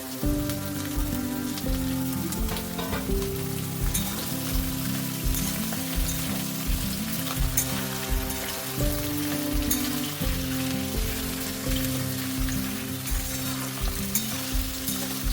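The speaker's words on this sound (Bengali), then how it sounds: "পেঁয়াজটা একটু লাল লাল করে ভেজে নেবো।" Chopped onions fry in hot oil for chili chicken, a loud, continuous sizzle with rhythmic scraping and clattering as they are stirred in the pan.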